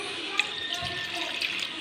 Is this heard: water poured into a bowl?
yes